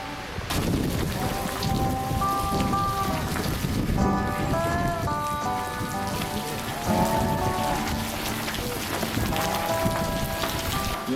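Steady rain pattering on surfaces outdoors on a film set, a continuous dense wash with a tonal hum and musical notes layered over it.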